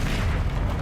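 A Confringo spell blast in Hogwarts Legacy lands as a short, dull boom, a brief muffled burst that rumbles for under a second with no talk over it.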